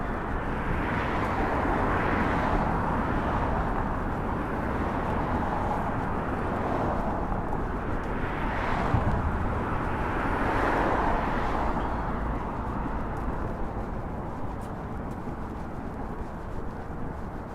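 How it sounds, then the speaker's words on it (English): Jets coming in to land at LaGuardia Airport in Queens, New York City, make a steady broad roar with slow swells as they pass. The sound is loud and continuous, with no talk over it. "Lots of planes landing at LaGuardia Airport."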